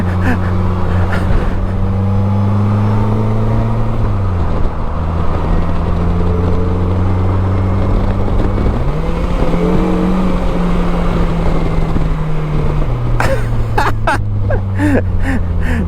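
A 2025 Polaris Slingshot, a rear-wheel-drive three-wheeler, with its engine loud and close, revving and climbing through gears in steady rising sweeps, with brief dips at shifts and wind rush; faint talk surfaces near the end.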